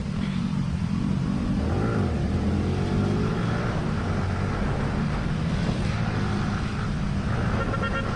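A Yamaha R15 V3 motorcycle ridden fast and unsafely on an open road: a loud, continuous engine drone and roar with road and wind noise throughout, close and steady, without speech.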